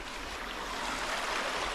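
A creek on rural Pennsylvania land rushes in a constant, fairly loud broadband wash, with no voices over it.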